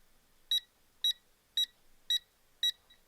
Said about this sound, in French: on a un gradient de bip et de couleur en fonction de la proximité avec le fil